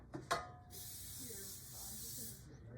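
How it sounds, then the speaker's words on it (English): A short, steady hiss of cooking oil spray sprayed onto a full-size baking sheet pan, lasting nearly two seconds, quiet and close, after a couple of brief handling clicks. "You're gonna grease it, spray some oil on it."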